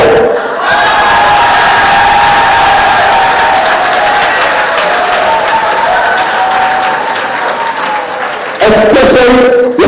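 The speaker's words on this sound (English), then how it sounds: "you see how the ladies just give loud applause" Loud, sustained applause from an audience of retired people at a monthly association meeting in Trinidad and Tobago, dense clapping and crowd noise filling nearly ten seconds, with a fresh surge just before the end.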